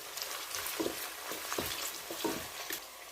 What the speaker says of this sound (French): Je vais frire un peu les oignons 1 minute.